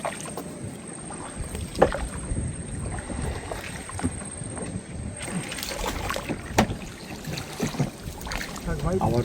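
A small boat moves through a mangrove creek in the Sundarbans forest, with water sloshing and knocking against the hull and gusty wind, while people talk intermittently nearby.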